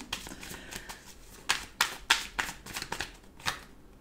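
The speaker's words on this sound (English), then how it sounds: "I've got to shuffle 3 times is what I'm being told" Close-up shuffling of a card deck: a string of crisp riffling bursts and soft slaps in an uneven rhythm, fairly quiet.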